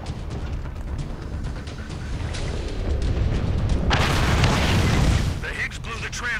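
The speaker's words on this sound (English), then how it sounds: "The Higgs blew the transformers." Transformer explosion in the Killzone Mercenary video game: a loud, sustained booming blast that swells through the middle of the stretch and then fades, layered over rumbling battle noise.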